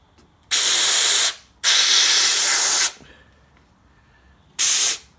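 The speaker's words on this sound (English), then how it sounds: "I'm going to spray some into there." Waxoyl rust protection sprayed through an angled lance into car body seams: three loud, close hissing bursts, two longer and one short, with quiet pauses between.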